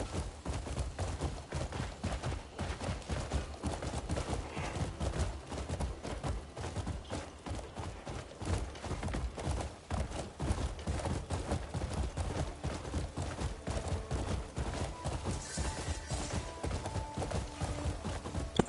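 Hooves of a horse galloping in the video game Crimson Desert, rapid rhythmic clip-clop beats pounding continuously and loud, with dense game sounds layered underneath.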